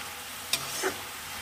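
Food frying in a pan of oil gives a faint, steady sizzling hiss, with a couple of small clicks from stirring.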